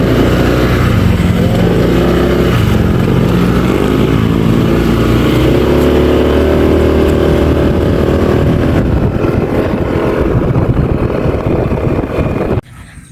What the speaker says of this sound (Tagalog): Hindi kami makatawid. Maraming sasakyan.